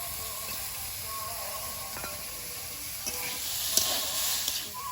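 Prawns go into a kadai over frying cauliflower, and a steady, moderately quiet sizzling hiss carries on with a few light clicks and a brief swell in frying noise near the end.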